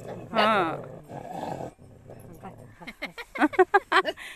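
A stray dog growls and snarls close by in short rough bursts, then breaks into rapid yapping near the end, with people talking around it.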